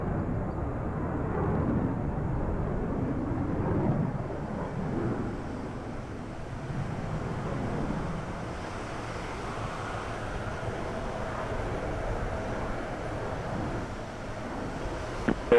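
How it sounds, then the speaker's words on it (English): Engines of a Lockheed L-1011 aircraft run on a taxiway, a broad steady roar with a wind-like rush that swells and eases slightly, heard from some distance. "L-1011 getting itself ready at the end of the taxiway."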